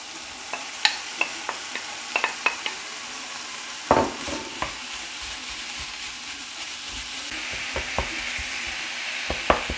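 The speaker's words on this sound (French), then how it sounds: "Je vais venir ajouter ma viande hachée" Minced beef, 500 g, dropped into a hot pan and stirred, giving a steady close sizzle broken by sharp scraping clicks of a utensil against the pan.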